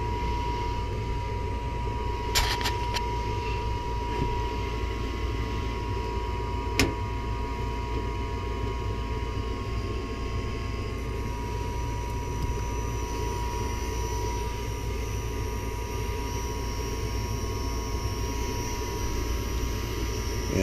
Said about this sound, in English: that inducer sounds rough